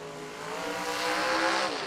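At a New Year Nationals drag racing event, a race car engine revs early on the line, a steady rising roar heard at moderate distance without voices.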